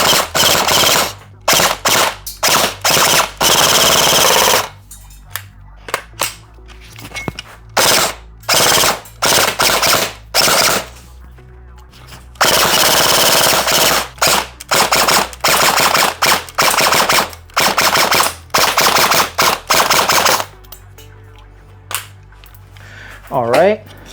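A Lancer Tactical KR9 airsoft replica rifle fires full auto in rapid, loud bursts of rattling shots, broken by short pauses, with a voice speaking in the gaps.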